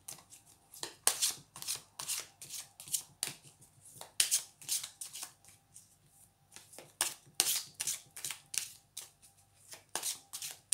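Visconti tarot cards are shuffled by hand in repeated quick riffling bursts, close and crisp, with short pauses between runs.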